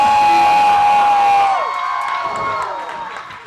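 A wrestling crowd cheers and whoops loudly at a CWF TV event, a swelling roar with whistles and shouts that slowly fades.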